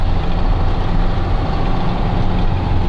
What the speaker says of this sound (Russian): Знакомый звук двигателя. КАМАЗ, конечно, едет очень мягко.